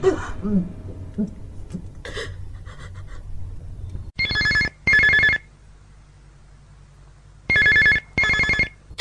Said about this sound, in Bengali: এত রাত্রে ফোন সাড়ে তিনটে বাজে প্রায়